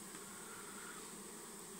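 Honey bees hum at a narrowed hive entrance of a queenless colony facing robbing, a steady, dense buzz, faint and continuous, with no other sounds.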